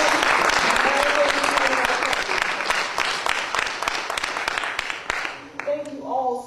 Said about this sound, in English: I would really like for us to give a hearty hand clap to Dr. Whitaker and the members of the group AAFAP